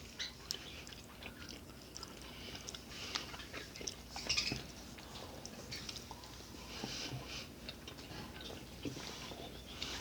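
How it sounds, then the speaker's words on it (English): Someone chews a dense Italian snack close to the mic, with soft, steady crunching and mouth sounds over a quiet background for the full ten seconds. "Lots of chewing for a little thing."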